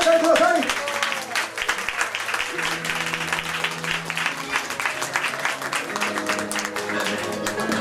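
Audience applause welcomes an idol group member of Osaka Märchen onto the stage at a CD selection announcement event, steady clapping throughout with music and a voice underneath.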